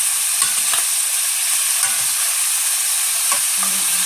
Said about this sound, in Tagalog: Pinipirito ko muna ng kaunti.